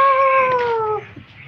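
One long, clear meow close by, with a drawn-out falling tone lasting about a second before fading into quiet background noise.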